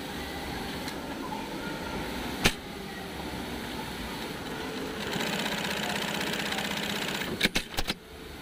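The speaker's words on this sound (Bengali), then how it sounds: "রানিং মেশিনটা আমি এখন সুইং করব" A Juki double-needle sewing machine running steadily, its fast mechanical whir continuing throughout, with a brief sharp knock near the start and a cluster of clicks near the end.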